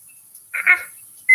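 A kitchen timer being set during home cooking gives a few short, bright electronic beeps, spaced irregularly with quiet gaps between them, close and clear with no talking.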